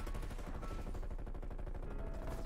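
Stoner 63 machine gun firing in Call of Duty Cold War, a rapid unbroken stream of punchy shots in a fast steady rhythm, close and dense, lasting the whole burst with no talk over it.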